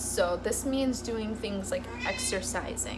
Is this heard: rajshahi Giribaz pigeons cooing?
no